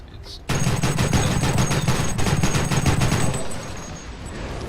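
Rapid tank gunfire in the War Thunder video game, a loud close burst of repeated shots in a fast steady rhythm lasting about three seconds before fading into a rumble.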